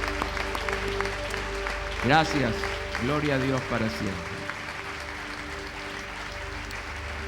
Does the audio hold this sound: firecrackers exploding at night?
no